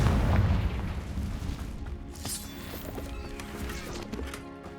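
Spell blasts from the Hogwarts Legacy video game, a loud booming explosion that opens the clip and decays, followed by smaller crackling impacts and a brief bright burst, with no talking.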